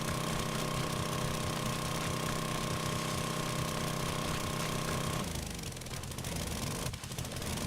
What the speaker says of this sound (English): it's a lot easier to use the auger